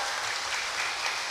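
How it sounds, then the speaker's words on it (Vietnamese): Brief burst of congregation applause at a Catholic parish gathering, dense and steady clapping with no speech over it. "Nên xin có tràng pháo tay để chúc mừng"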